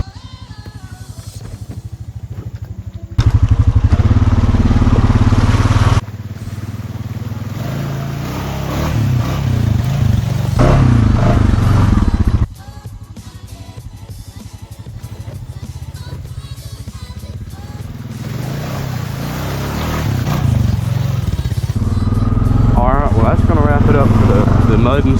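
A Honda Foreman ATV on new Outlaw 2 tires, in two-wheel drive, churns through dam water. Engine drone and splashing rise and fall in loud, close bursts, with people talking over parts of it.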